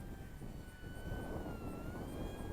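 An ESKY Mini EYAS II, a sub-250g brushless RC plane with a 750mm wingspan, flies overhead in gusty wind, its steady thin motor whine held over constant rumbling wind noise.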